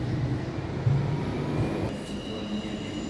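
Rumbling train at Copenhagen Central Station bound for Malmö, Sweden: a steady low mechanical drone and hum with faint higher hiss, continuous and moderately loud, with no talking.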